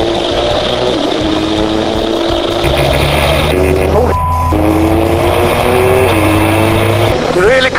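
Formula 2 single-seater race car engine droning loud and continuous on track, pitch rising and falling through throttle changes and gearshifts, with a low turbo hum underneath and wind rush throughout.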